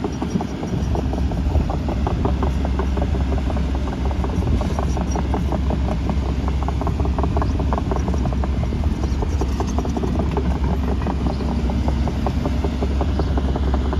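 A Sumitomo SH130F6 excavator's diesel engine runs steadily while loading grass into a ten-wheel truck, a loud continuous low rumble with rapid rhythmic knocking throughout and no voices.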